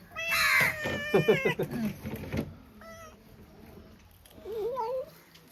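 A cat in a home kitchen meows several times, loud and near at first, with fainter rising cries later, amid light kitchen clatter.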